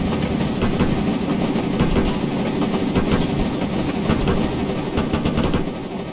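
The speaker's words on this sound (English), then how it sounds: "Those chuff sounds are really nice." Steam locomotive chuffing from an LNER K1 2-6-0 in Train Simulator Classic, a dense, continuous rhythmic chuff with hiss and rail clatter, loud and steady throughout with no talking.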